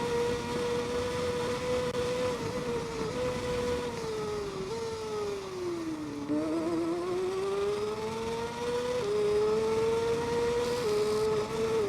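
Motorcycle engine in TT Isle of Man 2, screaming at high revs for the whole stretch, its pitch dipping and climbing again as the gears change, loud and continuous with no talking.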